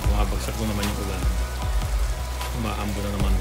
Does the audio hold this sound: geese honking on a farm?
no